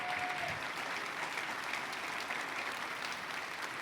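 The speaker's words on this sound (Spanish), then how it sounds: "denle ese aplauso al Señor." Steady applause from a church congregation, a moderately faint, even wash of many hands clapping that holds at a constant level throughout.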